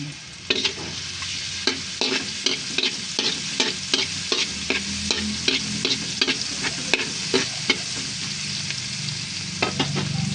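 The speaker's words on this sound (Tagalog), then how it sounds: "dito po sa pinagprituhan natin, dito rin po tayo magigisa ng ating bawang" Garlic sautéing in oil left over from frying milkfish for bangus steak, a steady sizzle broken by repeated scraping stirs of a spatula in the pan, close and fairly loud with no talking.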